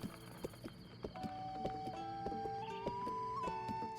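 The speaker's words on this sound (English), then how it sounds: "Horses in this game are cool." Horse hooves clip-clop in a steady trotting rhythm in the Breath of the Wild video game, mixed with a sustained tonal game soundtrack, fairly faint overall and without talking.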